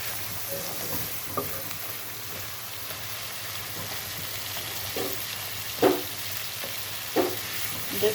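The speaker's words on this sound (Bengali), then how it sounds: "মাছটা তেলের উপরে ভাজা হচ্ছে, অ্যান্ড পেঁয়াজটাও ধীরে ধীরে বাবা ভাজার সাথে গলতেছে" Fish frying in oil with onions gives off a soft, steady sizzle, with a few louder crackles and the occasional stir of a utensil.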